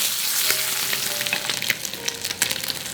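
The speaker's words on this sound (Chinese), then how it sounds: "锅热倒油，鱼肉给它下锅煎一下" Fish fries in hot oil in a pan, a loud, continuous sizzle with dense crackling and popping that rises and falls as the pieces cook, with no voices.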